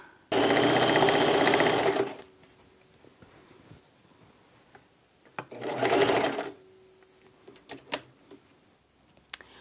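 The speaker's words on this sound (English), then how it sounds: "while I'm sewing around this blanket" A sewing machine stitches around the edge of a rag quilt blanket in two separate runs, a longer whirring burst and then a shorter one, with quiet handling noises between them.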